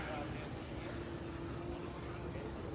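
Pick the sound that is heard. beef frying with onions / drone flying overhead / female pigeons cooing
drone flying overhead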